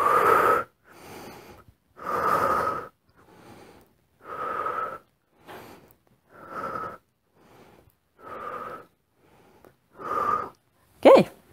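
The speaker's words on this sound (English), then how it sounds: "when you go up, inhale, exhale, inhale, return to the center, exhale, inhale" Audible breathing during a beginner core exercise routine, alternating strong wheezy exhales and softer inhales in an even rhythm, about a dozen breaths close to the microphone with silent gaps between.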